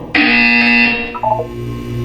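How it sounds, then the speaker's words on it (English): A loud, sustained electronic buzzer from the video game Portal 2 sounds alone, a harsh steady tone holding for about a second before shifting into a lower, wavering hum. "When you hear the buzzer, look up at the ceiling."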